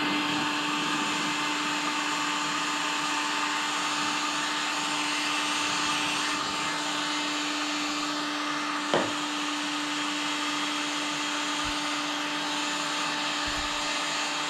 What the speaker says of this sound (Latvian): Paņemam fēnu, pakasējam.